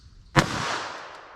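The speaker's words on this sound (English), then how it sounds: "let's hit it with our 380 ACP FMJ through our medium density fiber board" A single .380 ACP FMJ pistol shot fired into medium density fiberboard, one loud sharp crack followed by a brief fading echo outdoors, no voices.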